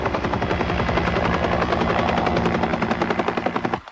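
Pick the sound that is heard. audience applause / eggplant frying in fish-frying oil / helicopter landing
helicopter landing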